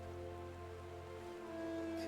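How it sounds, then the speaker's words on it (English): Quiet, continuous rainfall in Final Fantasy XIV, a low, even wash of drops with a steady background hum and no talking. "Get out of the rain, get out of the rain"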